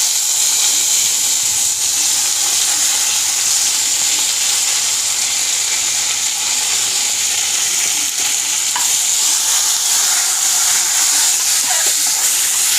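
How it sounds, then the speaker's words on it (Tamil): Onions frying in hot oil with cumin seeds for an okra pachadi make a loud, continuous, close-up sizzle that holds steady the whole time, with stirring under the crackle. "இப்போ வெங்காயத்தெல்லாம் ஆட் பண்ணிக்கலாம்."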